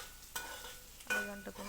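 A spatula stirs bottle gourd curry frying in oil in a pan, two distinct scraping strokes over a soft, quiet sizzle, close up and with no talking.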